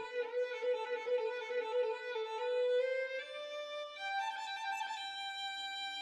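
Embertone Friedlander sampled violin playing rapid alternating notes in imitation of trills, a bright sustained bowed tone shifting pitch a few times over several seconds, heard alone and fairly dry.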